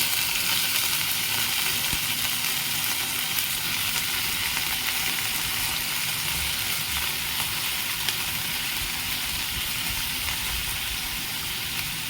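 Onion, tomato, potato and yardlong beans with green chillies sizzle steadily in a hot pan, a continuous even fry with no voices.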